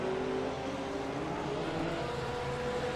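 Porsche GT3 race cars at the Catalunya circuit, a loud, continuous engine drone with a steady high tone that shifts slightly as the cars pass, close and sustained with no talking.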